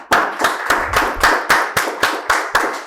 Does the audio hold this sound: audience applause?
yes